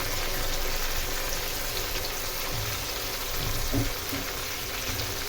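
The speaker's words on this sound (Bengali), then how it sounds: "এবার আমি এখানে 1 বাটি টমেটো, এটাকে টুকরো করে রেখেছি, সবটা দিয়ে দেব গরম তেলের ভেতরে" Chopped tomato pieces hit hot oil for a Bangladeshi hilsa fish sour curry, giving a dense, steady sizzle that holds at an even level with a few faint pops.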